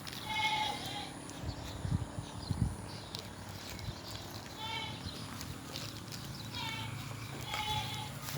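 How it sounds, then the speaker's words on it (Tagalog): A goat bleats a few times, moderately close, with a steady hum and some shuffling underneath; a few short thumps break in partway through. "Ito po ang aking alagang kambing."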